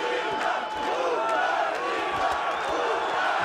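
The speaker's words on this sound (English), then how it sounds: "You can hear the local crowd as well." A local crowd at a boxing team final, a dense roar of shouts and chanting that fills the arena steadily, heard alone without clear voices standing out.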